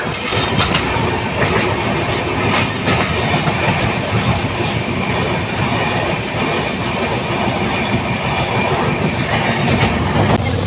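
A passenger train from Diva rumbles steadily along the tracks with rhythmic clatter of wheels, loud and close throughout, no voices.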